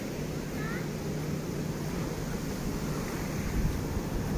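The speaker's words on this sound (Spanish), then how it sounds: "Pero de repente como que viene fuerte oleaje." Strong ocean surf rolling onto Playa Icacos beach in Acapulco, a steady loud wash of breaking waves with wind noise throughout and a slight surge near the end, no one speaking.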